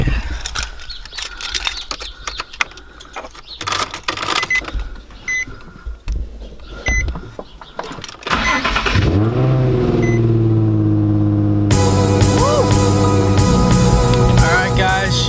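A Nissan 350Z engine cranks with a few clicks and rattles, then catches and settles into a loud, steady idle close by, with a higher whining layer joining near the end.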